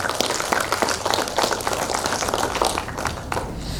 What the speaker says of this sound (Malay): mari kita sambut dengan satu tepukan gemuruh dengan penuh meriah sekali